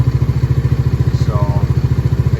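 A Honda Navi motorcycle engine idles after a carburetor adjustment, its close, loud, even pulsing thump holding a steady rhythm throughout.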